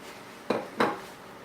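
Two quick clattering knocks of peppers and utensils dropping into a metal pot while cooking spaghetti, close and fairly quiet, about a third of a second apart against a soft background hush.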